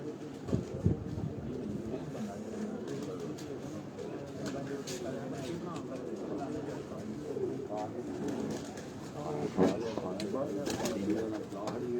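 Pigeons coo steadily in the background while people talk over them, with a busy, crowded feel throughout.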